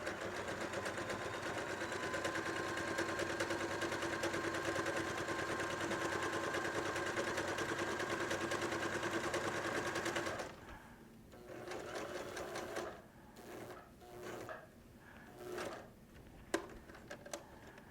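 A sewing machine stitches thick fabric such as denim or upholstery leather, a fast steady mechanical whirr for about ten seconds that stops, followed by quiet handling clicks and short bursts.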